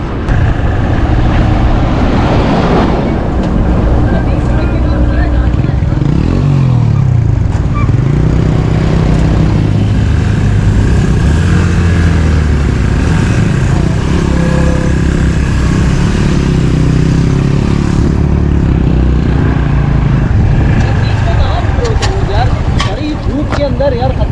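A motorcycle riding on a mountain road on the Malakand to Batkhela route, with a steady loud engine drone throughout and people talking over it.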